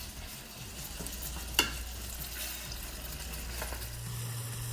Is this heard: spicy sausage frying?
yes